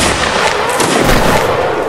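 Musket volley fire in the Mount & Blade Napoleonic Wars video game, a loud dense rolling crackle of many muzzle blasts merging together with a low rumble, no talk.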